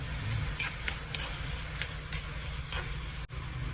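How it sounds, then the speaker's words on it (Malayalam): Finely chopped green chili and ginger sizzle steadily in a pan while being stirred, with a few brief scraping clicks of the spoon over a constant low frying hiss, no voices. "ഒരു പച്ചമുളക് ഇഞ്ചി ചെറുതായി കട്ട് ചെയ്തത് അതിട്ട് കൊടുക്കാം കൂടുതൽ പാടില്ല ഇഞ്ചിയൊന്നും അത് ഞങ്ങൾക്ക് മിക്സ് ചെയ്ത് കൊടുക്കാം"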